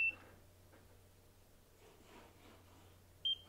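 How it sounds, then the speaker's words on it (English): A NIRA handheld laser device gives a short bright electronic beep at the start and another near the end, faint and isolated over quiet room hiss. "The full contact is that beep, and then the second contact telling you that it's done with deploying this laser in full."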